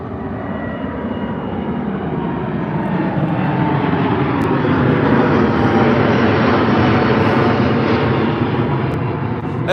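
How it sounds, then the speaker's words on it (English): Delta Airbus A330-900 jet taking off at Heathrow, a loud, dense roar that swells steadily and holds strong through nearly ten seconds, with no voices. "Delta A330 of the 900"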